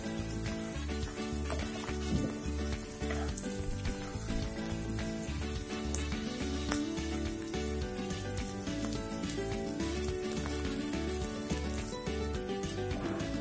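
Palak muthiya, a multi-grain spinach dumpling, frying in a pan until crisp, giving a steady, continuous sizzle with faint crackles throughout, with music playing and no talk.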